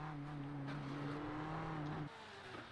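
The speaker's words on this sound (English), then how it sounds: "That's a Ferrari. Love the way that thing sounds." A Ferrari race car engine in a NASCAR Xfinity sim racing game at Daytona drones loudly and steadily at high revs, then the pitch drops sharply near the end as the car backs off.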